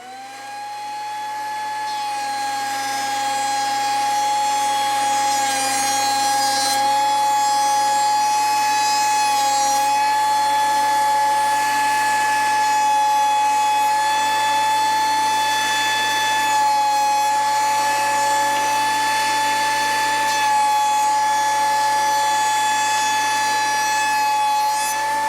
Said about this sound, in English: we're going to take them in there and run them through the planer